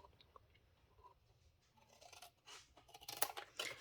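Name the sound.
cutting an angle cut on a card box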